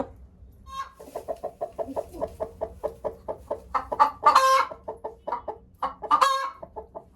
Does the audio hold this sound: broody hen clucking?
yes